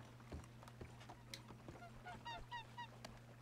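Pelican calling in the video game Red Dead Online, a few short honking, goose-like calls near the end over a steady low hum, faint and close.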